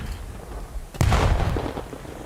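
A single sharp gunshot from a Call of Duty esports match, Boston Breach versus Royal Ravens, cracks out loudly over a steady background bed and rings briefly as it decays.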